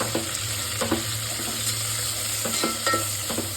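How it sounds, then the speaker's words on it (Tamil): Mint leaves frying in a pan while cooking ghee rice, a steady close sizzle broken by repeated scraping stirs of a spoon at an even rhythm, with no talking. "புதினா போட்டுட்டு ரொம்ப நேரம் ஃப்ரை பண்ணிக்கலாம்"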